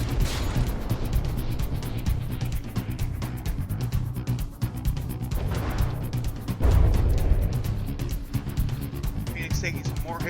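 Explosions and weapon hits boom and crack from a naval battle between armed vessels in the video game From the Depths, a dense, continuous barrage with a heavy low rumble and a louder blast near the middle, with a voice talking over it.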